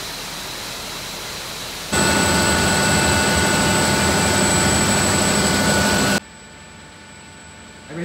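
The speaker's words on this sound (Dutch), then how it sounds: "Naar een zeer lawaaiige gasmotoren, daar hebben jullie hier de twee van." Two loud biogas-fuelled gas engines at a sewage treatment plant roar with a dense, steady drone and a high whine, starting abruptly and stopping after a few seconds, leaving quieter room noise.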